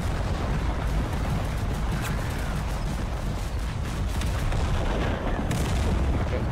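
In the video game Total Conflict Resistance, battlefield explosions and artillery fire roll on without a break. The dense, booming barrage is loud and close, with heavy low rumble and no voice over it.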